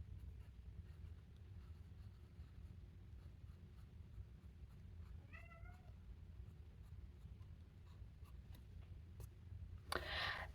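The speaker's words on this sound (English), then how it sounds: "I'm going to write with my Pilot Explorer that has a steel medium nib" A Pilot Explorer fountain pen with a steel medium nib writes on paper with a faint, quiet scratching in a still room; a cat meows briefly midway, and a louder rustle comes at the end.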